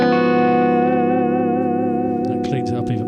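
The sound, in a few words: clean electric guitar through Dover DA-50 amplifier with compressor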